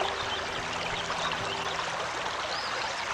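Water flows in a soft, continuous stream during the quiet intro of the video game Anna Extended Edition, a gentle, even trickle with no talking.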